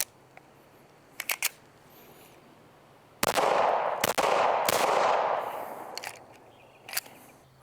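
A PSA Rock pistol fires a handful of rounds outdoors, sharp loud reports spaced irregularly with ringing decay, preceded and followed by faint clicks and handling noises, no talking.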